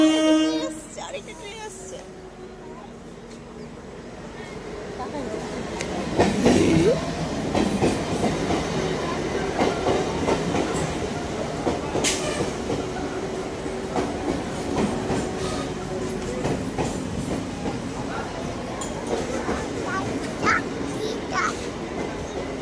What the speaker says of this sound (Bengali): ট্রেন কোথায়?